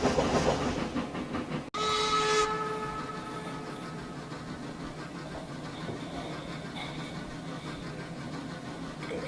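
A freight train rumbles into Northport, Washington station with a sharp metallic clank and a brief whistle-like tone, then a steady, fairly faint engine drone continues.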